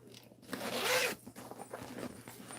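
A zipper on a bag's side pocket is pulled in one long, rasping sweep, followed by softer, uneven zipper ticks and fabric handling, close to the microphone with no talking.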